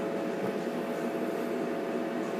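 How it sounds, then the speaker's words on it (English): A food dehydrator without a temperature gauge runs while drying cabbage, giving a steady, fairly faint fan whir with a mid-pitched hum, continuous and unchanging, with no talking. "Okay, I've got the dehydrator going."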